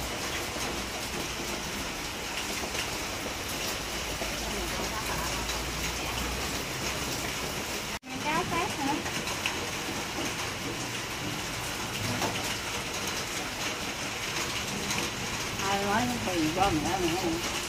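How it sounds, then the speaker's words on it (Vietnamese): Steady rain falling outside a home, a dense continuous hiss with a brief dropout midway, while people talk intermittently in the foreground. "Trời mưa rồi, tạm ngưng dẹp dọn rồi"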